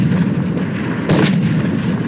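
An unsilenced gunshot fired in a video game hits as a sharp, loud crack with a short booming tail, standing out against steady background game sound.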